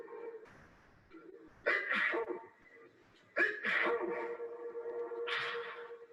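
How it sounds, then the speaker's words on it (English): A man sneezes forcefully into a cotton hanky in a test of how far fluid spreads, with several bursts close and loud and a longer final blast. "for this final test, he's sneezing in fluid"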